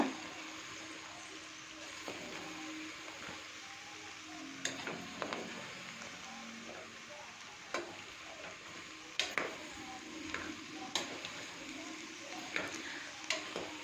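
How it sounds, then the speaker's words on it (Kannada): A spoon stirs sliced onion and bitter gourd in oil in a pan, making scattered soft scrapes and taps over a quiet, low sizzle. "ಈರುಳ್ಳಿ ಹಾಗಲಕಾಯಿ ಎಲ್ಲ ನೀಟಾಗಿ ಮಿಕ್ಸ್ ಆಗಬೇಕು"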